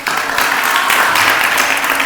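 Applause rises from a gathered audience at a religious discourse and question session, a dense, steady wash of many hands clapping close by that fills the short stretch without a break.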